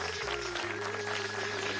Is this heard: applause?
yes